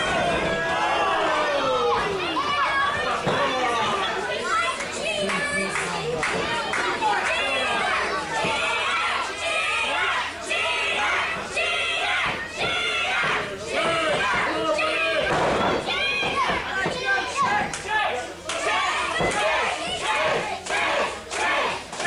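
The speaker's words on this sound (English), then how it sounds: "Crowd starting to rally behind Chase Ryan here." Wrestling crowd roars and shouts for Chase Ryan during a match, a loud, continuous wall of cheering and chatter with bursts of yelling and occasional thuds, commentary voices mixed in.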